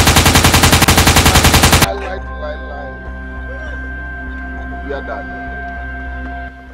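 Rapid machine gun fire from an action movie scene, a loud dense burst of evenly spaced shots lasting about two seconds, then cutting to a quieter background of music and ambience.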